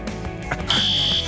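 A building's fire alarm goes off, with a clatter of noise giving way to a loud, piercing, sustained electronic tone that holds steady to the end.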